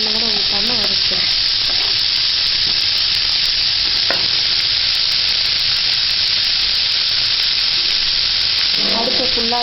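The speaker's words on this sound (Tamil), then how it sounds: "இந்த மாதிரி எண்ணெயிலே வதக்கிறது தான், எந்த தண்ணியும் கொஞ்சம் கூட ஊற்றாமல் வதக்கிறோம்" Snake gourd stir-fries with urad dal in oil, no water added, over a full flame, making a continuous loud sizzle and hiss, with a faint voice at the start and end.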